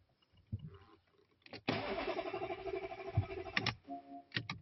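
A car engine cranking repeatedly with a rhythmic starter whir for a couple of seconds, then stopping without catching after a failed ECU write; a few clicks and thumps before and after.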